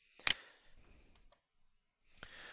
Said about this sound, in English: then just hit the Enter key on the keyboard to create a little bit of a separation here